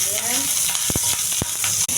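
Bay leaves and spices tempering in hot oil for a Bengali fish curry with beans and potato, a steady close sizzle with two or three sharp scraping clacks of a utensil against the pan.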